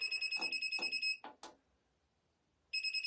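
An electronic timer alarm beeps in rapid, steady, high-pitched pulses, cuts off, and starts again near the end after a brief pause broken by a couple of soft knocks.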